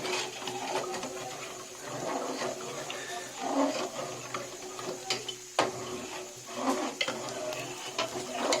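Chicken biryani ingredients stirred in a pot at home, a soft scraping and clinking of utensil against metal repeating in an uneven rhythm, close and fairly quiet, with a couple of sharper knocks.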